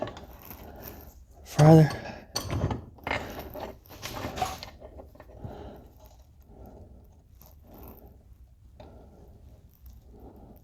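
Socket ratchet turning a linkage bolt on a dirt bike or ATV during a linkage bearing replacement, giving a few short clicking and creaking bursts early on before quieter handling noises, with a brief word spoken.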